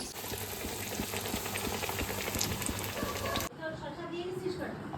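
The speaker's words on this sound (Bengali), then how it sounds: "আমি ভাজছি" Food frying in a pan while shahi chicken is cooked gives a dense, loud sizzle mixed with voices, then cuts off abruptly near the end, leaving quieter room sound.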